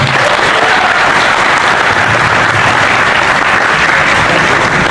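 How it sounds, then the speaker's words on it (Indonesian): Loud, dense applause from a crowd at a meeting about the Ogoh-ogoh parade for Nyepi, a steady unbroken wash of clapping held at full strength throughout. "Tepuk tangan."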